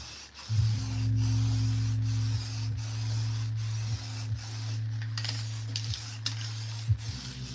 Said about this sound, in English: Let's get some clear coat on it.